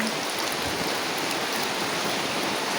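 Steady rain falls with a dense, even hiss, loud and continuous throughout, with no voices over it.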